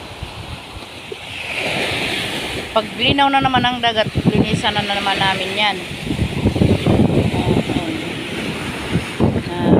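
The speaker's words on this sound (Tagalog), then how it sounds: "Napakahangin." Strong sea wind buffets the microphone with a constant roar of surf behind on an overcast morning, while a person talks loudly over the gusts.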